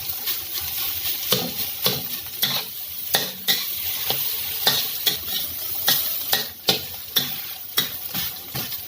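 Rice stir-fried in a pan after scrambled egg, a loud close sizzle broken by regular scraping and clacking spatula strokes, with no talking.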